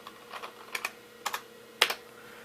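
On an IBM PS/2 Model 8530-021, a few keys are typed on the computer keyboard, giving about six sharp clicks in irregular pairs, close and fairly soft over a quiet hum.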